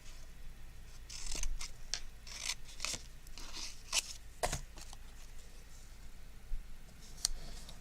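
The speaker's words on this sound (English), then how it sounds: "I like to just trim it off with the scissors." Scissors snip through paper card, a run of sharp crisp cuts close by with a few brief pauses, alone with no talk.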